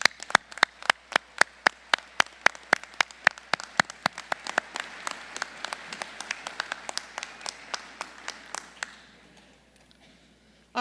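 Audience standing to applaud guests at a college of pharmacy hooding ceremony: sparse, individual sharp claps ring out in a hall, thickening into a soft patter midway before fading out.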